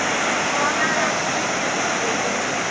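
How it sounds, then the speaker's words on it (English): Rough ocean surf at Harvey Cedars crashing onto the beach, a loud continuous broadband roar of breaking waves that fills the whole clip with no pause. "The waves are raging in."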